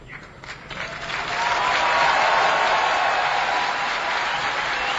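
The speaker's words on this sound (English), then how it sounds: "everybody at the Palestine area clapping" Applause rises from scattered claps into a loud, sustained roar across the UN General Assembly hall as delegates react to the 138-9 vote upgrading Palestine to non-member observer state, with crowd murmur beneath the clapping.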